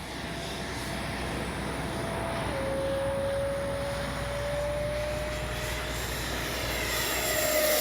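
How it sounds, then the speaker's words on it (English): A Freewing 70mm F9F Panther RC jet flies by with a steady, high ducted-fan whine over a broad rushing roar. It holds for several seconds and swells louder toward the end as the model passes close, with no talking. "Great sounding jet."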